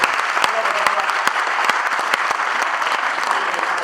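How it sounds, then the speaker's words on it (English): Audience applause at an assemblyman's swearing-in ceremony at a community college, a steady dense wash of clapping with a few sharper individual claps standing out, close and loud throughout. "Let's give him a round of applause"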